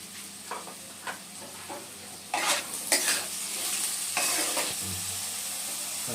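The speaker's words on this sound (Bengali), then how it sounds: "দেখুন আলুটা ভাজা হচ্ছে" Potatoes sizzle in hot oil while a spoon scrapes and stirs the pan in several bursts, close and fairly loud.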